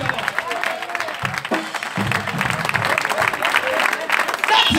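Congregation clapping at an all-night prophetic church service, a rough, continuous patter of hands mixed with crowd noise and voices, loud and close.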